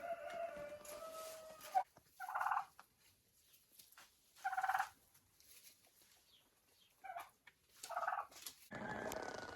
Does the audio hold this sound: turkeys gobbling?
yes